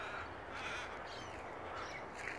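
A crow caws faintly in the distance, a few hoarse calls rising barely above a steady outdoor wind-like hiss.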